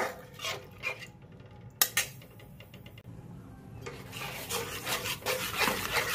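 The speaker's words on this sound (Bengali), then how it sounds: "এটা দেওয়ার পরে কন্টিনিউ নাড়তে হবে," A spoon scrapes and stirs thickening chicken gravy in a pan without pause, giving rough rubbing strokes, sharp metal clinks against the pan's sides and a low simmering sizzle underneath, heard close.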